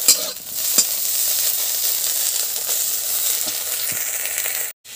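Shrimp frying in a pan, a loud dense sizzle with stirring scrapes throughout, cutting out abruptly just before the end.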